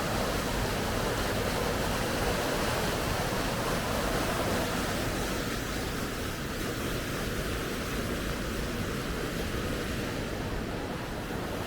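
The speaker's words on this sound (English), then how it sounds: "look at the power of that water" River water in Bibury, in the Cotswolds, roars in a steady, dense wash of noise, powerful and unbroken throughout.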